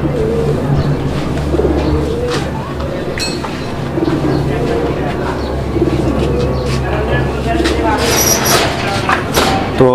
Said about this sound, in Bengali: একদম ভরপুর ডাক মাশাআল্লাহ, ভরপুর ডাকের কবুতর